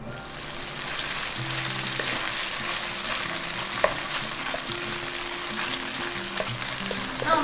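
Mashed tofu skin stir-fries in an oil-slicked wok, giving a continuous, even sizzle with occasional light scraping and clinks of a spatula, steady and close with no talking.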